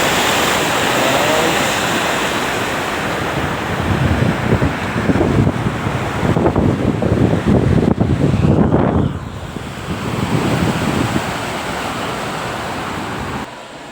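A waterfall in an Odisha village roars as a steady broadband rush of falling water mixed with wind buffeting the microphone, swelling louder in the middle and staying constant throughout with no talk.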